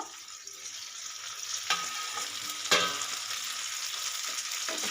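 Bitter gourd cooking in a pan for a poppy-seed dish gives a steady soft sizzle, with two brief sharper scrapes as the pieces are stirred.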